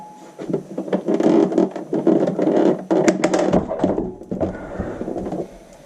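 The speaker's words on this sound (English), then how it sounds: "I'm going to move my sewing machine out of the way" Clunks, rattles and scraping as a sewing machine is shifted and set down nearby, a series of irregular mechanical knocks.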